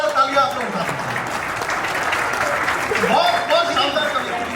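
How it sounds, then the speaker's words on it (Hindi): An audience at a Republic Day poetry gathering claps in honour of a poet, a continuous wash of applause with a voice speaking through parts of it. "इनके सम्मान में जोरदार तालियां आप लोग उठा सकते हैं।"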